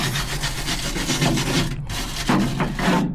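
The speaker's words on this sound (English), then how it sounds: "I'm ready to start scraping and sanding" Old paint being scraped and sanded inside the cab of a 1952 Chevy pickup, with close, repeated rough rasping strokes in an uneven rhythm and no talk.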